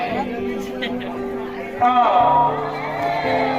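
At a Bhagavad Gita gathering, a crowd roars a devotional response in unison, a loud burst of massed voices that rises midway and holds briefly over the lead voice.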